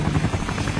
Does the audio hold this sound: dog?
no